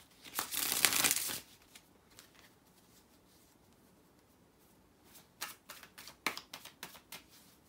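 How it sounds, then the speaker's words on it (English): Tarot cards are shuffled by hand in a quiet room, with a brisk riffling burst near the start and then a rapid series of soft, papery shuffles toward the end, with no talking. "So let me shuffle and see what you got."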